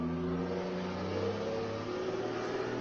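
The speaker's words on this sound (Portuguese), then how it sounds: "Agora tá passando o caminhão." A truck rolling past outside, its engine a steady low rumble and drone heard through the room, muffled and continuous for the whole stretch, no talking.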